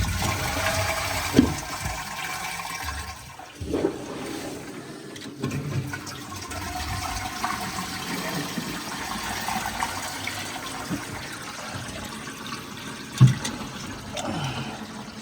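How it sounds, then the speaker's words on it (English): A newly fitted toilet in a renovated bathroom is flushed, with a gushing rush of water that eases into a steady, moderately loud hiss of the cistern refilling, broken by a few bumps and clunks. "Give it a flush, try it out, making sure we've got no leads on the flush pipe, the pan connector, or the connector going onto the lead."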